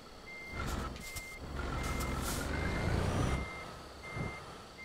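A Mercedes truck reverses into a parking spot in Euro Truck Simulator 2. Evenly spaced reversing beeps sound over a low engine rumble that swells and then eases off as the truck creeps back.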